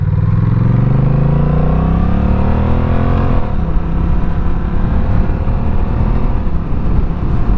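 A 2021 Honda CMX1100 DCT Rebel motorcycle engine pulling hard and rising in pitch as it accelerates through the gears, then shifting and settling into a steady loud drone with heavy wind rush, heard close up.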